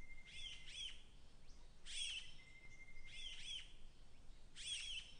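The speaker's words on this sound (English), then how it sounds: "Vocal call is a two-noted, rather nasal gii-yaak" Large Cuckooshrike of the Andaman subspecies giving its two-noted nasal call, repeated four times at steady intervals, fairly clear against a quiet background with no talking.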